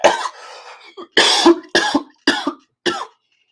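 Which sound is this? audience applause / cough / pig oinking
cough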